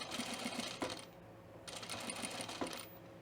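A sewing machine stitching a button-up shirt, running in short close bursts with a quick stop in the middle and faint clicks.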